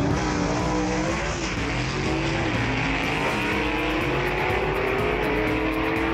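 A drag race car launches hard off the line in the QuickTime Performance lane, a loud, steady engine roar that fills the whole stretch with dense harmonic drone.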